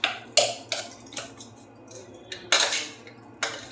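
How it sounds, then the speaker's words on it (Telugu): Garlic being pounded for chutney, with a handful of sharp, separate knocks and clinks of a pestle against a vessel, close and irregular, separated by quiet gaps. "ఇప్పుడు ఇవి ఇట్లా దంచి వేసుకుందాం"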